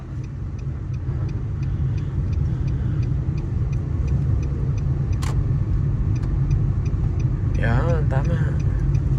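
Car engine running steadily during a driving test, a continuous low rumble from inside the cabin with a faint regular ticking, and a person briefly speaking near the end.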